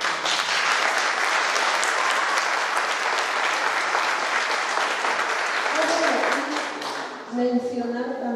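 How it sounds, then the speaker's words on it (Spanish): Sustained audience applause at a talk or lecture, steady dense clapping that fills most of the stretch before tapering off as a voice begins to speak near the end. "Y le damos un aplauso."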